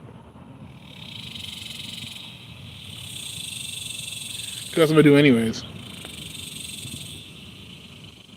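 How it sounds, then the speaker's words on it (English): Crickets chirp steadily in grass, a continuous high, pulsing trill throughout, moderately close, with a brief burst of speech from a man partway through. "Those are the crickets that be in like the forest or whatever, in the grass."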